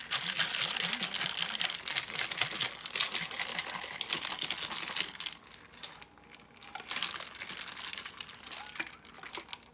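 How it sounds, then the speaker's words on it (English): A mason jar of strawberry lemonade is shaken hard up close, giving dense rattling clatter at first that thins out into lighter, scattered clicks and knocks. "we're going to give it a shake"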